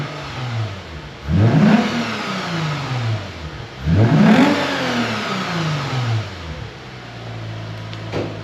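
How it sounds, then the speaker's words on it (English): A Lexus IS250/350 fitted with a Revel Medallion (Tanabe) exhaust revs twice, each blip rising sharply and falling back toward idle, with a strong mix of exhaust note and intake sound, close and loud. "That is the perfect mix of exhaust note and intake sound out of this car."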